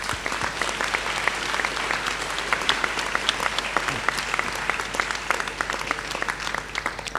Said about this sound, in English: I would ask you now to take this opportunity to show your appreciation with a round of applause